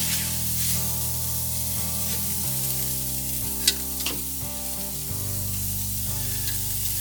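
Chicken fajita sizzles loudly and steadily in a hot pan, with a few sharp crackling pops, and a layered humming drone sits beneath the frying.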